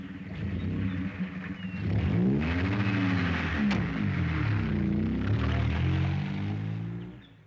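A car pulls away, its engine note climbing and shifting in steady revving sweeps as it drives off, loud and close throughout with no voices.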